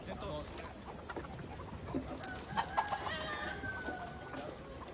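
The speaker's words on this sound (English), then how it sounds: "No matter how you train it or dress it up, it's a chicken." Chickens cluck in short, scattered bursts over a murmuring background, with some faint voices mixed in.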